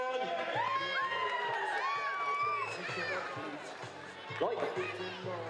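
Spectators at a soapbox derby whoop and cheer loudly together, voices overlapping in a dense, sustained crowd roar with shouted calls rising above it.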